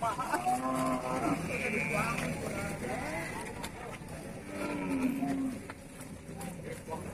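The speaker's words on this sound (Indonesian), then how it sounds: "Ini kecil-kecil tapi bukan pedet nih ya. Ini sapi jabres." Small Jabres cattle, an Indonesian breed, moo at a livestock market, with several drawn-out lowing calls amid background chatter of people talking nearby.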